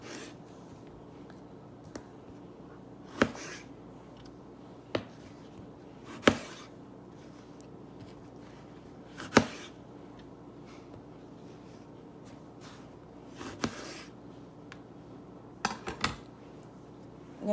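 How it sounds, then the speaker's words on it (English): A knife chops a tomato into rough chunks on a cutting board, giving about eight sharp, separate knocks at an uneven pace over a quiet kitchen background, with no one talking. "I'm just going to start by chopping up this tomato. Just going to cut it into chunks."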